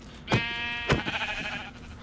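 Sheep in Minecraft bleat twice in quick succession, close and clear, with light game sounds between the calls.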